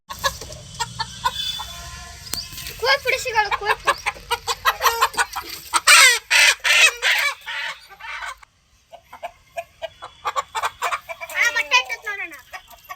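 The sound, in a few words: native country chickens clucking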